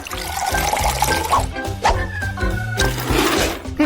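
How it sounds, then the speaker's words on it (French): Boiling water poured into a cup to make coffee, a steady close liquid stream under loud background music. "je verse de l'eau bouillante"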